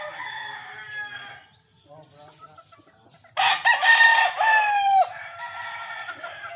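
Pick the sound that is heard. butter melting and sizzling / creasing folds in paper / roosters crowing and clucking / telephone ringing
roosters crowing and clucking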